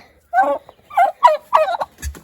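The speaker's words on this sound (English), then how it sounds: "over here are our turkeys" Turkeys on a small farm gobble in several loud, close bursts of rapid warbling calls, separated by short silences.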